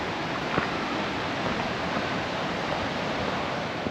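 River water rushes through the Partnach gorge, a loud, steady, broadband roar of turbulent flow filling the space without pause, close by and with no voices.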